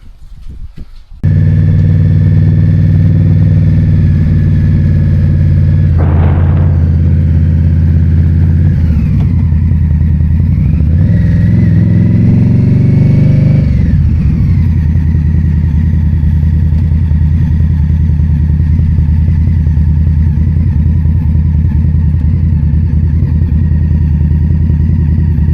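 Motorcycle engine on an evening ride, loud and close as it starts up, revving and shifting through the first stretch, then settling into a steady droning run with wind noise and no talk.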